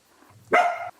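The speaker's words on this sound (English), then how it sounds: "My dogs heard that dog, and now they're convinced there's an intruder." A single dog bark, close and fairly loud, a brief sharp woof standing alone against a quiet background.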